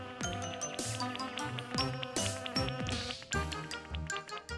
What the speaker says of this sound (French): Dit Connie, pendant que l'abeille récolte le nectar de jolies petites marguerites.